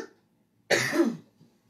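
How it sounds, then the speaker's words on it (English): A single harsh cough burst, close and fairly loud, lasting about half a second amid otherwise quiet surroundings. "Now I'm going to have a coughing fit."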